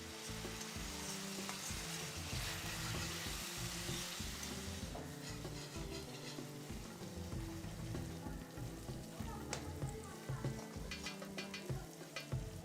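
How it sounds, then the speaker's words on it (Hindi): Sliced onions fry in a pan until brown, giving a continuous dense sizzle with occasional stirring scrapes and pops, steady and close with no talking. "अब हम प्याज को ब्राउन होने तक पकने देंगे।"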